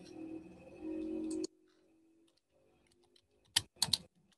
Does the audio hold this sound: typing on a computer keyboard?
yes